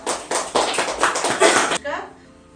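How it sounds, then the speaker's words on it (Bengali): Clapping from a crowd at a winter colour carnival art and culture event in Kolkata, several loose bursts of hand claps with talk over them, ending abruptly and followed by a quieter tail. "হাততালি হোক একটা।"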